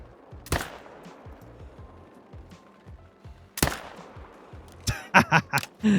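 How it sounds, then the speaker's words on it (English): A rifle chambered in .300 is fired at a fallow deer in a hunting video game: two sharp, loud single shots about three seconds apart over quiet ambient wind and rustling, followed by a burst of thudding impacts near the end. "Like popping these fallow deer with the 300."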